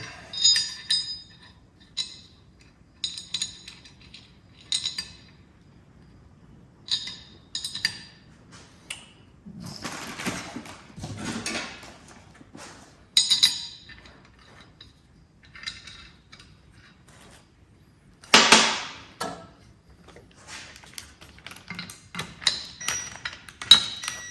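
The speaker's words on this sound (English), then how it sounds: "Go ahead and get all these bolts started." Metallic clinks and light ticks of bolts being started by hand on a Dana 44 axle during a full spool install, coming in scattered bursts with quiet gaps between them.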